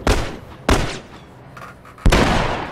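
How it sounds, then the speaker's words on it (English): Three loud, sharp blasts in a video game, each a broadband boom with a decaying rumble, spaced roughly a second apart. "Big explosion."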